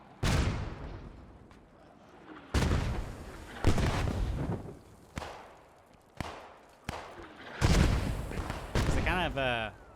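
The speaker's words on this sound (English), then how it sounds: "So we've got a volley of mortars coming down here." A volley of mortar rounds lands in the WWII shooter Post Scriptum, six or seven heavy booming impacts spaced a second or two apart, each with a rumbling tail, while a voice talks over them.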